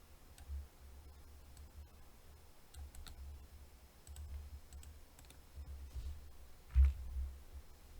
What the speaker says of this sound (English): we're going to type the following in